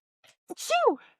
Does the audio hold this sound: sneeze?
yes